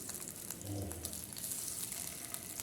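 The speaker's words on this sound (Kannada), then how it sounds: "ಈ ಥರ ಎಣ್ಣೆಲಿ ಹಾಕಿಬಿಟ್ಟು ಫ್ರೈ ಮಾಡೋಣ" Four cut tomatoes fry in a few spoonfuls of oil in a pan over low gas, giving a steady close crackling sizzle with light popping throughout.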